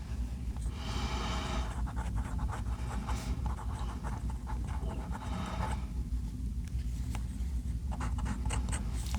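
A fountain pen nib scratching across paper while writing in reverse, heard as close, soft, intermittent scratchy strokes over a low background rumble.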